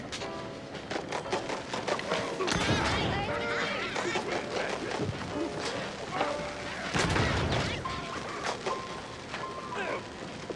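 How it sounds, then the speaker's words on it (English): Gunfire and booming blasts in a combat sequence of the video game Mouse P.I. For Hire, dense and loud throughout, layered with music and game effects, two heavy explosive bursts near the start and middle, while a voice talks over the action. "Yo, quit shooting me!"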